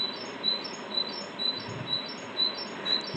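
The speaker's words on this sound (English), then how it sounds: "The bird chirping." A bird chirps in a steady series of high, thin, evenly spaced tweets over a constant hiss of background noise, moderately close and otherwise alone.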